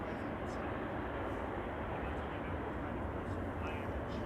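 Garuda Indonesia airliner bound for Jakarta on departure from Amsterdam Schiphol, a steady, broad engine roar holding at moderate level throughout, with faint talk beneath it.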